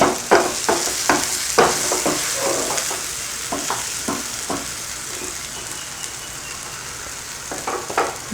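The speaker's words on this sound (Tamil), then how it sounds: "அதனால் மெதுவாக அப்படியே பொறுமையாகவே கிளறணும்." Green egg fry masala stirred slowly in a pan, a soft steady sizzle broken by repeated scraping strokes of a spoon, close and clear with no talking.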